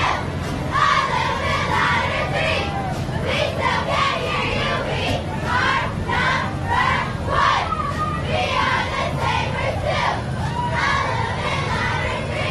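A high school cheer squad in a Christmas parade chants in loud, rhythmic unison, repeated bursts of shouted cheers with steady crowd noise and street bustle underneath.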